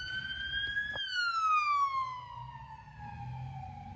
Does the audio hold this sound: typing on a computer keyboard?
no